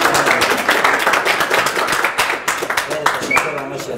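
An audience claps and applauds for the winner of a dead hang challenge in Kabul, Afghanistan, a steady dense patter of clapping mixed with voices throughout.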